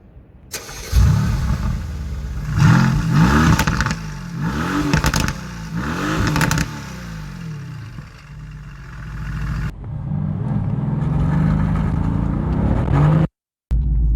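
A Mercedes-AMG GT S in Sport Plus mode revs hard several times in a row, its deep exhaust roar rising and falling loudly, then settles into a steady, throaty rumble with no voices.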